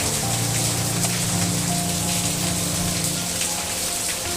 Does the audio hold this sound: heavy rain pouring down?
yes